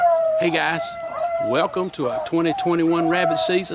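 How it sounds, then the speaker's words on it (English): Rabbit-hunting dogs baying and howling in the background, steady under someone talking close to the microphone throughout. "You can hear the dogs in the background."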